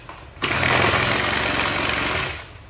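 A Hoyoma GX35 four-stroke grass cutter engine snaps to life and runs at a loud, steady buzzing pitch for about two seconds before winding down, close up with no talk.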